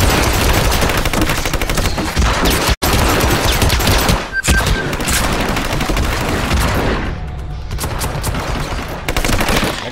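Gunfire in the video game Hitman Absolution, including a shotgun, heard as loud, dense, continuous bursts of shots with brief pauses over about ten seconds.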